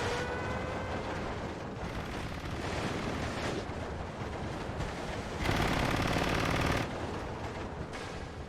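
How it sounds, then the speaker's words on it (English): Rapid machine-gun bursts from an MG42 bunker in the Steel Division 2 war game ring out amid dense battlefield gunfire and distant explosions, with a louder, sustained burst of fire near the end and no speech. "see this MG42 bunker up here. Getting loads of damage in."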